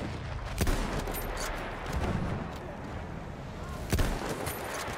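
Battlefield 1 gunfire over constant battlefield noise, with a few loud sharp shots standing out at intervals against a rumbling, crackling backdrop of distant fire.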